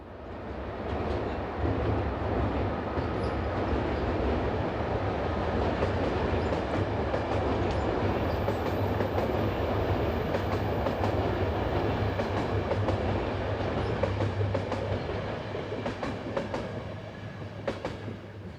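Austrian locomotive 1016-046 hauls the 06:45 Klagenfurt–Vienna intercity past an abandoned station near Buchstein. A loud, steady rolling rumble carries rhythmic wheel clatter for the whole passage, with no voices.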